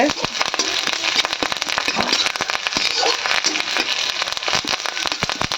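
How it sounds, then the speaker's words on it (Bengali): Curry leaves frying in hot oil with garlic, ginger and chilli for a dal tadka make a loud, dense, continuous crackling sizzle with sharp spitting pops throughout. "কারি পাতাগুলোকে একসাথে ভেজে নেবে মা ভালো করে মশলাগুলোর সাথে"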